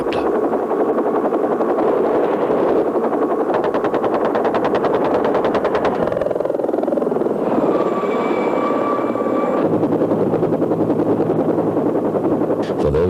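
Vietnam War military helicopter thundering close and loud, its rhythmic rotor beat filling the scene alongside rapid bursts of machine-gun fire, with a sweeping whine midway and a steady engine roar throughout, no voices.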